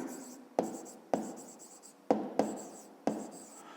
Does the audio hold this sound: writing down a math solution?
yes